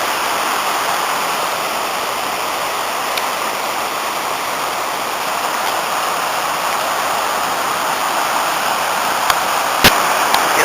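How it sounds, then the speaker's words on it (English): Afon Ysgethin, a river on a calm day after rain, running steadily over rapids in a dense, unbroken rush of water that holds at an even level throughout, with a single sharp tick near the end. "running water and rapids"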